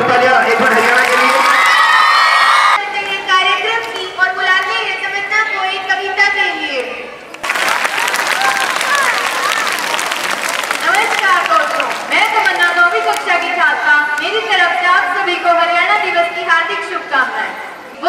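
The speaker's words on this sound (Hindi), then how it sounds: "तो ये जोरदार तालियां एक बार हरियाणा के लिए।" A school audience at a Haryana Day celebration bursts into loud, sustained clapping and cheering, with children shouting and crowd noise swelling throughout, while a voice speaks over the applause.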